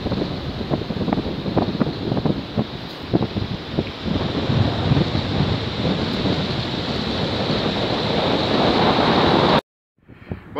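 Wind gusting across a winter beach, driving streams of sand along the shore in a steady, loud rush with buffeting on the microphone, then cutting off abruptly near the end.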